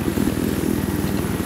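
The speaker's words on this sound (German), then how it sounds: "Da kommt ein Hubschrauber." Helicopter in the video game Battlefield 4, a loud close rotor thumping in a rapid, even pulse over a constant engine drone, heard alone for a brief moment.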